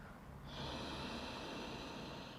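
During a Kundalini yoga meditation, a long, steady inhale begins after a brief pause and goes on as close, airy breath noise over soft background hiss.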